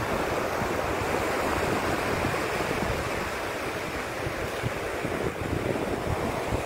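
Sea waves wash against the shore in a constant, broad roar mixed with wind buffeting the microphone, steady throughout with no voices.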